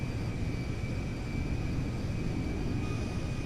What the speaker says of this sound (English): Just going to have to taxi down the runway here for just a little bit.